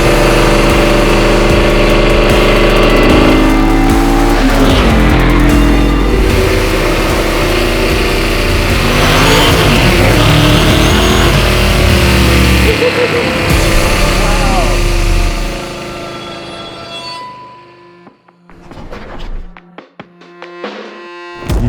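Martini Mustang Fastback with an INDYCAR engine runs loud and steady with a dense mechanical roar for about fifteen seconds, then cuts off sharply, leaving a few scattered knocks and clicks in near silence.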